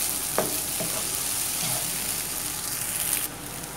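Soya chunks frying in coconut oil in a pan, a steady close sizzle with a few light stirring clicks and scrapes throughout, no talk.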